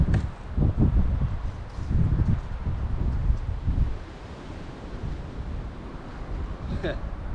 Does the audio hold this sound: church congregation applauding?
no